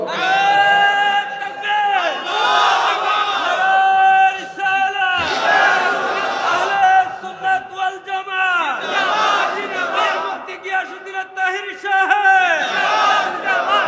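A crowd at a religious gathering chanting a slogan in loud, repeated unison calls, each surge of many voices rising and falling in a steady rhythm close by.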